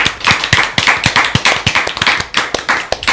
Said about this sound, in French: vos applaudissements les plus chaleureux pour Loïs Verne